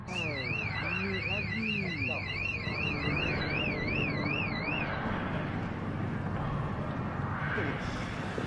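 A warbling car alarm cycles up and down for several seconds before cutting off, with noisy outdoor rumble and voices continuing afterward.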